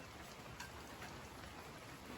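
Steady outdoor rain in Florida, a soft continuous hiss of drops falling without a break, with no talking.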